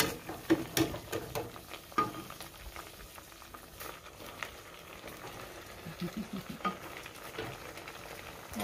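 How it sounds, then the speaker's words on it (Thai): Soup with straw mushrooms and grilled mackerel bubbles at a boil in a pot, a quiet, close patter of popping bubbles with irregular little bursts throughout, no talking. "เดือดแล้วทำไงต่อ"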